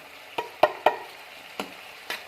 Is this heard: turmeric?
yes